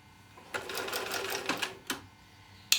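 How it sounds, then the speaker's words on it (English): A sewing machine runs a short stitching burst to the end of a seam and onto a thread saver while piecing a mini mosaic quilt, its quick rapid needle chatter fairly quiet and close, followed by a couple of sharp clicks. "I'm just going to stitch to the end of that seam and go straight off onto my thread saver again"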